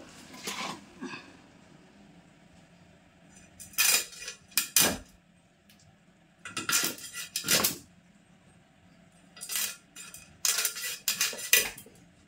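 Knife cutting and scraping fish on a board in a home kitchen for a Bengali fish curry, with repeated sharp clattering bursts separated by quiet pauses.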